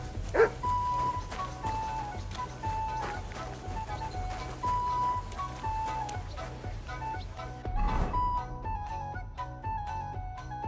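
A dog in Kingdom Come: Deliverance II barks a few times over steady medieval game music and ambience, the barks moderately close and mixed with the score.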